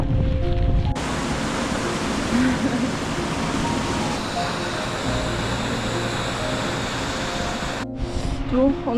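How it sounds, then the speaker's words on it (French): Waterfall in Iceland pours as a steady, loud broadband roar that fills the whole stretch, with a brief dip and rustle near the end. "Bon, on arrive sur la cascade."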